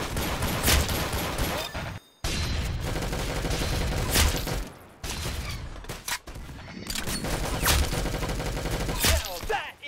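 Rapid, loud bursts of Glock 17 pistol fire in the video game Arsenal come in dense volleys with brief gaps between them, close and harsh, with a voice occasionally present.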